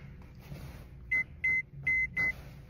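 A home alarm system keypad gives four short, clean electronic beeps in an uneven rhythm as a code is punched in, close and fairly loud over a quiet indoor background.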